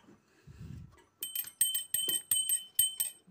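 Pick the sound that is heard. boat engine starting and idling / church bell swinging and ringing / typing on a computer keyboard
church bell swinging and ringing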